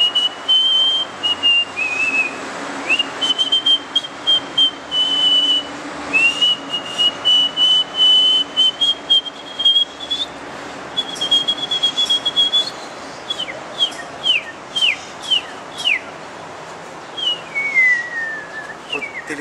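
A camerawoman whistles alone, imitating bird calls in a long series of clear, high, warbling phrases with quick slides and short repeated chirps, close and fairly loud.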